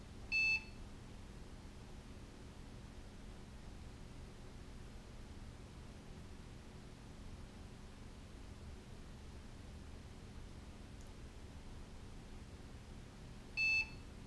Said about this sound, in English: The beeping you hear is me pressing a button.